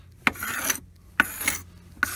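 A metal blade scraper rasps old coating off boat timber around the cockpit in three short, rough strokes, each starting with a sharp catch and trailing into a scratchy drag.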